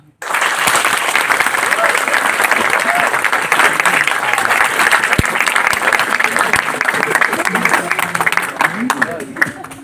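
A large audience at a student youth festival performance applauds steadily, dense and loud clapping that starts abruptly and fills the whole stretch without letting up, with faint crowd noise underneath.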